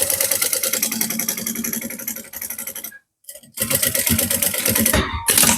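A sewing machine stitches a sublimated A4 tote bag, running loud and close in steady rapid bursts, stopping briefly near the middle, then resuming for a final backstitch run.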